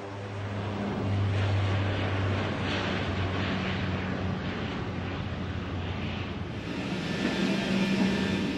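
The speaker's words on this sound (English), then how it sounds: "the C-17 crew is tasked with taking the aircraft from a standard parked configuration to being ready for takeoff" Boeing C-17 military transport aircraft engines running up as the crew readies the aircraft for takeoff from a parked configuration, a steady distant roar mixed with wind noise throughout.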